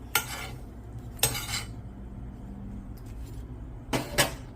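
Black rice dosa lifted from a pan onto a plate, with a few sharp metallic scrapes and clinks of utensil against pan, separated by quiet pauses.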